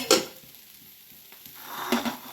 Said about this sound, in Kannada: ಇದರಲ್ಲಿ ಎಣ್ಣೆಲೆ ಫ್ರೈ ಆಗಬೇಕು